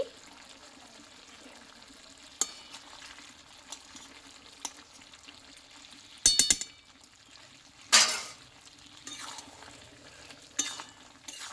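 Sweet pumpkin and potato cooking in a spoonful of ghee, a quiet steady simmering hiss with occasional sharp utensil clicks and a couple of louder scraping stirs against the pot, nearby and without talk.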